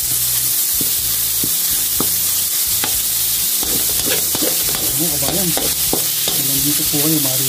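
Ground meat tossed with onions in a hot pan gives a loud, steady sizzle punctuated by regular clanks and scrapes of a spatula against the pan, with a voice briefly heard underneath near the end.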